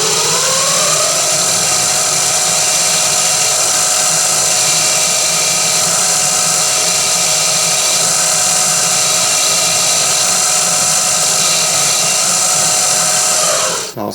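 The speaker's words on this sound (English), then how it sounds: "So I'm going to drill it, because guess what? Drilling is still the most efficient way of removing metal" A power drill whines steadily and loudly for the whole stretch as it bores into metal, a continuous high-pitched grinding with a constant motor drone, ending abruptly.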